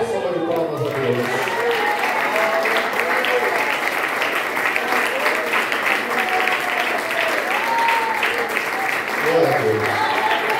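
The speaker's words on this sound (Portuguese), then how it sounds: "Vamos dar a melhor salva de palmas a Deus." A church congregation applauds loudly and continuously, a dense wash of clapping that barely changes for the whole stretch, with voices mixed in.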